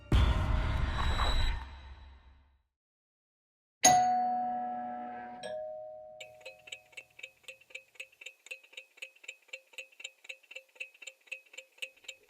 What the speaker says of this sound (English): We all flinch when the doorbell rings, a sharp chime cutting through the warm laughter in our dining room.